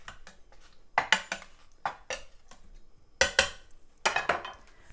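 Cabbage is pressed down into sauce in an Instant Pot for a cabbage casserole, giving several soft scraping and knocking utensil sounds against the pot in short bursts, close and fairly quiet.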